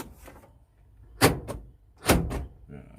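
Two dull mechanical clunks about a second apart, close by, as the four-door central locking of a 2003 Suzuki Espass ZL engages, with quiet background noise between them.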